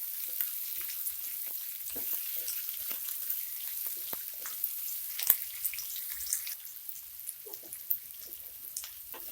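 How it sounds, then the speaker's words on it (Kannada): Beans, carrot and capsicum fry in a pan for veg noodles, giving a soft, continuous sizzle dotted with small crackles and pops that keeps going without any talk. "ಈಗ ಬೀನ್ಸು, ಕ್ಯಾರೆಟ್ ಮತ್ತು ಕ್ಯಾಪ್ಸಿಕಮ್ ಹಾಕ್ತಾಯಿದ್ದೀನಿ. ಇದನ್ನು ಫ್ರೈ ಮಾಡ್ಕೊಬೇಕೀಗ."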